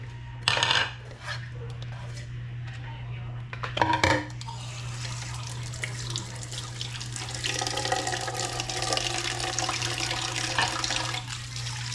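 Dishes being washed in a home kitchen sink: running tap water, clinks of plates and cutlery being handled, and sharp clatters near the start, all over a constant low hum, close and fairly loud.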